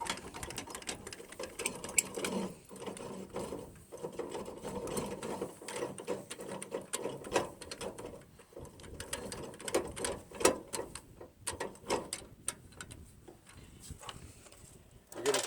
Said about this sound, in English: Now you're going to finish by raising up the jack the rest of the way.